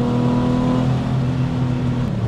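Gunther Werks restomod of a Porsche 993 911, its reworked engine revving loudly up close, a sustained droning roar that holds and then drops in pitch as the revs fall.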